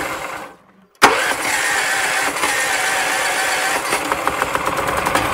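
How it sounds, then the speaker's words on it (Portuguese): A gasoline engine on a crop sprayer starts with a sudden catch after a brief silence, then settles into a steady, loud mid-pitched running rumble. "abre a gasolina, a alavanquinha, puxa o afogador, acelera o motor um pouco e vem na partida"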